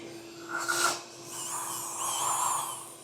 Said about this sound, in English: Okay, time to bevel some holes.